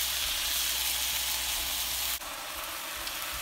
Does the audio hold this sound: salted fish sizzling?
yes